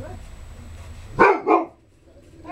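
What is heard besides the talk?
dog barking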